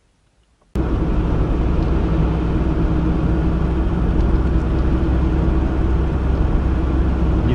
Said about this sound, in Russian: есть такой гул, похожий на завывание